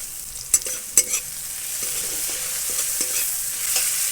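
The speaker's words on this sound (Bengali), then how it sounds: "কুচে মাছগুলো ভেজে নিচ্ছি" Eel fish frying in hot oil with dried chillies, cumin, chopped onion and salt, a steady soft sizzle broken by a few sharp stirring clatters of a spatula against the pan, close and alone.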